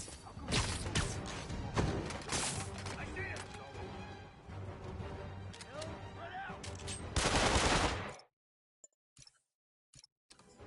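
Sniper gunfire in the Spider-Man PS4 video game: sharp, loud shots punch through a dense wash of game action and effects, which cut off abruptly into near silence broken by a few brief blips.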